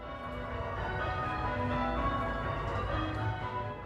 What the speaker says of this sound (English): a brand new ring of bells cast by the best bell family in the world.